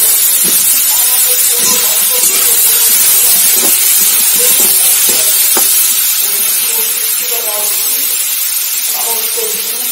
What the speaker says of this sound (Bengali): পেঁয়াজ আলু সব একসঙ্গে ভেজে নেব।